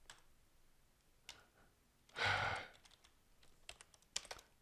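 Sparse clicks and taps of typing on a computer keyboard, faint and close, with one louder rustling burst in the middle and a few quick keystrokes toward the end.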